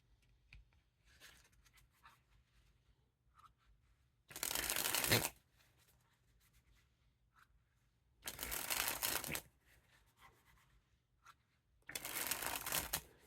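Queen Bee playing cards by Ellusionist are sprung from hand to hand in three separate bursts of rapid, fluttering riffles, each lasting about a second, with quiet handling noises in between.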